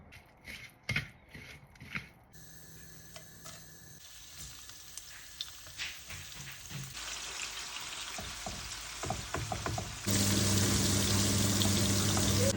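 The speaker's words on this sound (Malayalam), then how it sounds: "നമുക്ക് ഈ എണ്ണയ്ക്കകത്ത് തന്നെ ഇച്ചിരി ഇഞ്ചിയും വെളുത്തുള്ളിയും വഴട്ടാം" Ginger and garlic sauté in hot oil left from frying prawns, a steady sizzle that swells loud and dense near the end, with a few clinks and stirring scrapes early on.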